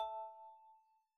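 A phone ringing in a video game, a single soft chime-like electronic ring tone that sustains briefly and fades, quiet and alone.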